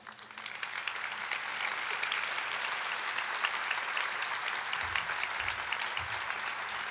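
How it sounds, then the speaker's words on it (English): An audience at a community event gives a sustained round of applause for a leader coming up to speak, dense and even clapping at moderate distance with no talking. "Let's give her a big round of applause"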